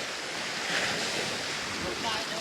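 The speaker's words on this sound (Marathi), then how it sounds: "शांत समुद्राच्या लाटांमध्ये निवांत बसणं" Calm sea waves breaking on a white-sand beach at Guhagar in the evening, heard as a steady, continuous wash of surf with light wind noise.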